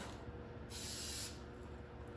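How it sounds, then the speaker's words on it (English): A can of VHT roll bar and chassis spray paint hisses in a short, fairly quiet burst, sputtering unevenly as it sprays, with softer nozzle hiss before and after. "Fuck is this thing spraying like that?"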